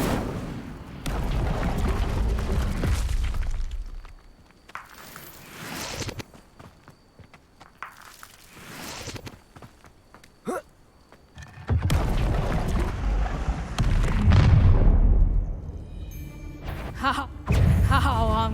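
Incendio fire spells cast in Hogwarts Legacy, loud whooshing blasts and bursts mixed with footsteps and combat thuds, rising and falling in irregular waves across the scene.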